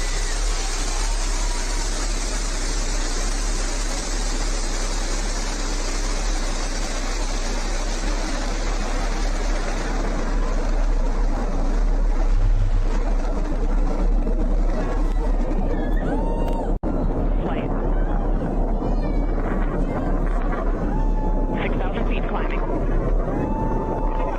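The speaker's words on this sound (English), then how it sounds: "Liftoff. New Shepard has cleared the tower." Blue Origin New Shepard rocket liftoff, a broad, sustained roar that fills the whole span and stays loud throughout, with a voice talking over it.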